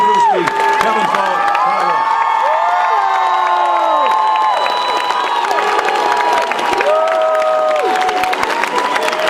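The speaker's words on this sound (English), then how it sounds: "A warm round of applause, please" Audience at the Troy Brown Hall of Fame event applauding and cheering loudly, a dense sustained roar of clapping with whoops and shouts throughout.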